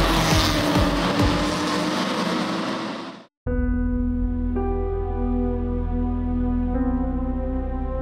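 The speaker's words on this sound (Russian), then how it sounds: "И дожать педаль газа." A race car accelerating on a race track in Sochi: a loud roaring rush that fades away, then after a brief silent gap a steady buzzing engine drone whose pitch shifts in steps.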